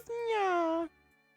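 A child-like voice imitates a cat's meow, one drawn-out rising then falling mew lasting under a second, close and fairly loud, followed by quiet.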